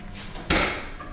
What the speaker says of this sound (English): Maybe open that passenger door.